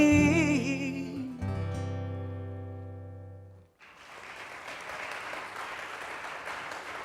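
A sustained musical chord rings out and decays to near silence, then an audience breaks into steady, moderately loud applause that continues to the end.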